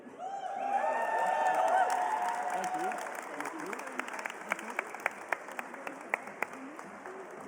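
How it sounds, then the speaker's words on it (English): Dense audience applause with cheering and whoops at the 2024 Australian Game Developer Awards, swelling loud early then thinning into scattered individual claps, with a voice speaking over the crowd. "Earn to Die, round of applause!"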